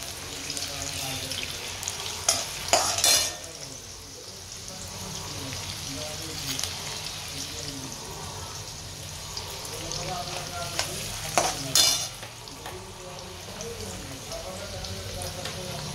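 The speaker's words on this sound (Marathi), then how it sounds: "शेंगदाणे थोडं तळू देते" Peanuts frying in a pan with peas and urad dal, a steady crackling sizzle running throughout at moderate level, with brief louder bursts of popping and stirring, and a voice talking over it.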